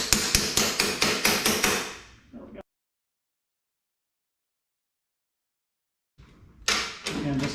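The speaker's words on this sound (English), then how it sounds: "Give this one a little low tap." A hammer raps a bolt during assembly of a 10-inch Kobalt jobsite table saw, giving a rapid run of sharp metallic taps that tails off into a few seconds of silence before more quick taps resume close by.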